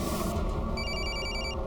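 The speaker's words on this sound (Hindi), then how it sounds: "उसके फोन पर फोन कीजिए जल्दी" A telephone rings after a call is placed, a repeated electronic bell tone over a steady low hum of background music, close and clear.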